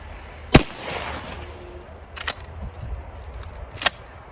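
Three sharp, loud blasts from a Remington 11/87 semi-automatic police trade-in shotgun, fired irregularly across a few seconds with faint mechanical clatter in between.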